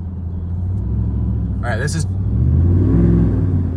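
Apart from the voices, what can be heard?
pickup truck engine revving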